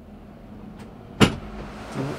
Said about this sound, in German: Ah, jetzt hat er die Tür aufgemacht,